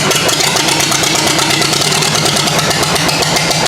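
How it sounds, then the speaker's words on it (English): A Farmall tractor engine with no muffler runs loud and steady, a close, harsh mechanical roar that holds throughout, at times misfiring on fewer than all four cylinders, with no talk over it. "And obviously it's very loud because there's no muffler."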